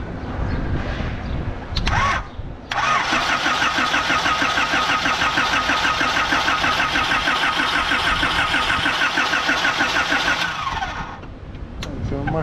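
The engine of a 1988 model car cranks, catches and runs loud and close for about eight seconds with a steady rapid throb, then cuts off, while people talk around it.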